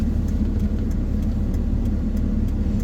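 Electric dirt bikes riding along a road in Yucaipa, a steady close rumbling drone of passing motors and road noise with no talk.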